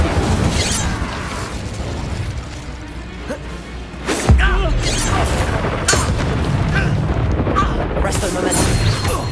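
Incendio fire spell cast in Hogwarts Legacy combat, a sudden booming burst of flame around the middle amid continuous crackling, whooshing battle effects, with voices shouting spell names over it.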